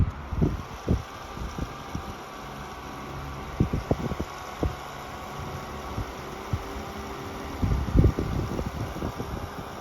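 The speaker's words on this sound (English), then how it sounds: "Pretty strong fan too, and relatively quiet as well." A 1971 Frigid GT-12 12-inch table fan runs with a steady, fairly quiet whirring hum, broken by scattered soft knocks and handling bumps close to the microphone.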